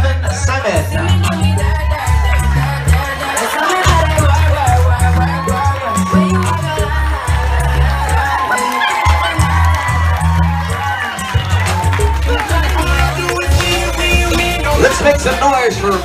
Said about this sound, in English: Keep the applause going for Chris Rascone and Stephen Simon.